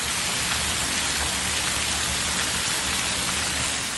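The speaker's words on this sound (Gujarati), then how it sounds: "તોફાની વરસાદના દ્રશ્યો છે દ્વારકાના, જ્યાં ભણવડમાં મેઘરાજાએ જમાવટ કરી." Heavy monsoon rain pours down in Bhanvad, Dwarka district, Gujarat, a dense, steady hiss of downpour that stays loud and unbroken throughout.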